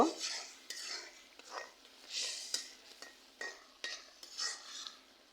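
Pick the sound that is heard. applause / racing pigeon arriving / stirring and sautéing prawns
stirring and sautéing prawns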